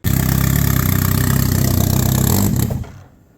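A motorcycle engine with air still in its system runs loudly and steadily at a fast idle close by, then cuts off abruptly, leaving a faint background hum.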